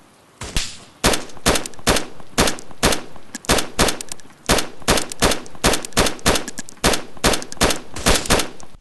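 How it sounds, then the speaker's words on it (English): Suppressive gunfire in a 20 vs 20 DayZ event battle: loud, sharp shots in irregular bursts and quick volleys, some shots rapid and close together, others spaced apart, continuing throughout. "We begin to use a lot of suppression to put their heads down."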